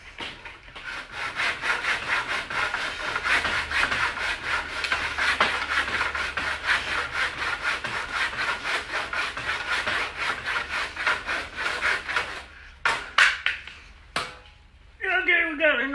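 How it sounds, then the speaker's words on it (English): Wood sanded by hand while building a planner craft table, a steady rhythmic rasping of back-and-forth strokes close up for about twelve seconds, then a few separate scrapes, with some speech in the background. "I may sand this a little bit."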